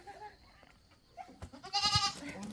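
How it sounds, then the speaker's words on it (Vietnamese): A goat on a farm gives a loud close bleat near the end after quieter rustling and shuffling, with a faint voice in the background. "Ui dồi, em dê này khỏe quá."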